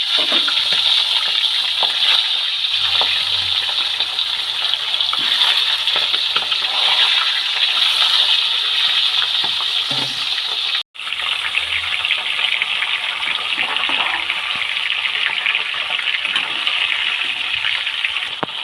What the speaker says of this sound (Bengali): এবার রুই মাছের মাথাগুলো ভেজে নেব মাথাগুলো তেলের মধ্যে দিয়ে দিলাম